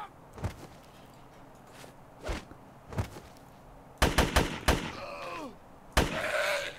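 Gunfire in GRAV comes as scattered sharp shots, then a rapid cluster of loud bangs followed by ringing, whining game effects and another blast near the end.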